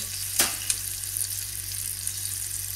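Mustard, chili powder and turmeric fry in hot oil for vegan Bombay potatoes, a continuous bright sizzle with a sharp crackle near the start and a few lighter pops.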